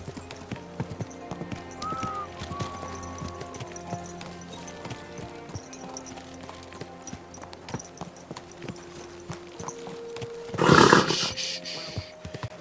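Hooves of a horse in the game Kingdom Come: Deliverance 2 clip-clop steadily and fairly faintly, with a brief loud snort or neigh near the end over quiet ambience and light game music.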